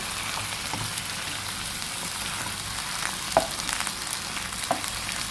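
Minced pork stir-frying with kale and soybean paste in a hot pan, a loud continuous sizzle with a couple of sharp spatula clinks and scrapes near the end.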